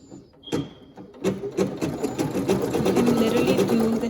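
A Brother PE800 embroidery machine runs a satin stitch over heat transfer vinyl, its rapid needle rattle starting in short bursts, then settling into a steady close whir with a faint voice at the start.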